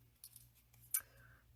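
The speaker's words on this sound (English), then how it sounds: "this piece here, I thought that I would just kind of cut it apart" Scissors cutting apart a paper craft piece for a fuzzy flower centre, a few faint close snips ending in one sharper cut against a quiet room hum.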